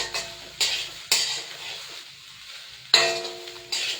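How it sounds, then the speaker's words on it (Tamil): Dry scraping and stirring of chilies and spices dry roasting in a pan, with a few sharp metallic clinks of a utensil against the pan at irregular intervals, no voices. "அந்த அளவுக்கு வறுத்தெடுத்தாலே போதும்."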